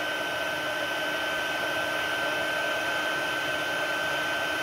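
A heat gun blows steadily on embossing powder over paper for a card-making fold, a constant loud whooshing hiss with a fixed whine, unbroken and alone for the whole stretch.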